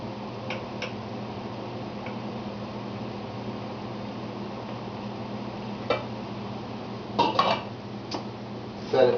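Squash cakes set into a pot steamer, with light clinks and taps of dishes and metal over a steady background hum, a few sharper clatters bunched near the end.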